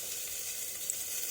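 Whole spices, bay leaf and dry chili, hitting hot oil for tempering, a brief steady hiss of sizzling.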